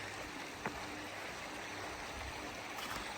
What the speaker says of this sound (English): with this babbling brook